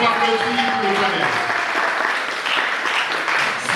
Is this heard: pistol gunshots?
no